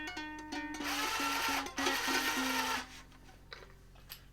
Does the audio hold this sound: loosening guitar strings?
yes